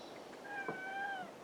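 A single short cat meow, fairly faint and close, rising and falling over about a second against a quiet room.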